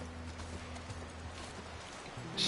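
Horse hooves clopping in The Last of Us Part I video game, a quiet, even gait repeating throughout, with soft background music beneath.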